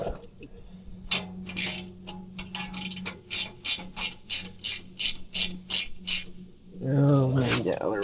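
A ratchet wrench clicks in quick repeated bursts, about a dozen sharp pulls in a steady rhythm, during a rear brake job on a 2021 Ford F-150, close and clear, with a short voice at the end.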